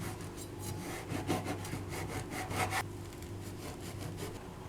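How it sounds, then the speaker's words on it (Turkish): Fresh kadayif pastry being finely chopped with a knife, a steady series of soft scraping, rasping cuts that grow denser midway and then ease off, close and moderately quiet with no talking. "200 gram yaş kadayıfımı ince ince kıyıyorum."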